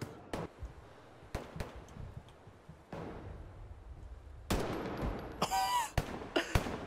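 Single gunshots from a gun in a video game, a burst of sharp cracks spaced across the clip with louder, denser shots near the end, mixed with game noise.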